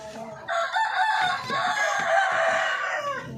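A rooster at a Filipino backyard poultry farm crows loudly and close by, while hens cluck around it in short bursts.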